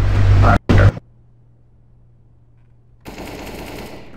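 Gunfire in CS:GO on the Mirage map, a short burst of automatic shots at the start, then near silence before loud game noise returns.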